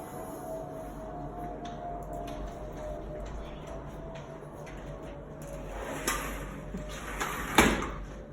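A backyard sliding door handle is closed and then opened, making a few short clicks and knocks late on. They sit close and fairly quiet over a steady hum of room noise.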